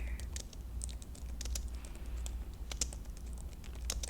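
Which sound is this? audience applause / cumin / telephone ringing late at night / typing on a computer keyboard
typing on a computer keyboard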